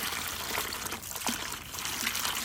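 Garden hose water rinsing the inside of a bucket used for fermented chicken feed, a steady close trickling and splashing spray, soft and continuous with no talk.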